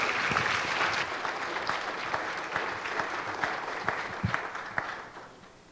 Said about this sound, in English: let's welcome Professor Busan with our most sincere applause.